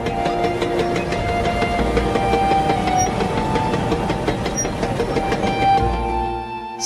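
A passenger train runs over a railway bridge with a steady, loud rumble and rhythmic clatter of wheels on rails, sustained throughout before easing off at the very end.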